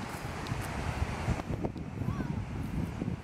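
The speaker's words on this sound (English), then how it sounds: "It's windy." Strong wind buffeting a microphone outdoors on a coastal walk, a steady rough rumble and crackle throughout with no clear talking over it.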